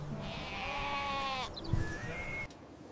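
Sheep or lambs in a meadow bleating in a couple of drawn-out calls, close and clear, followed by quieter rustling, with no talk.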